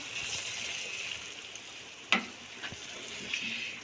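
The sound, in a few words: cauliflower and peas masala frying and being stirred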